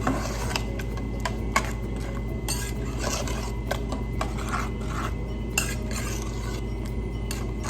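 A utensil stirs and folds yogurt into chana masala in a pan, giving steady scraping and rubbing against the metal with light clinks, close up and continuous, no one speaking.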